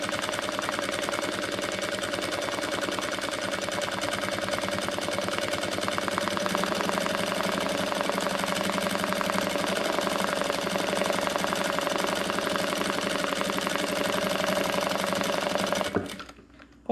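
Sewing machine stitching around a fabric jar lid cover, a fast steady mechanical whir at close range, running continuously before stopping abruptly near the end.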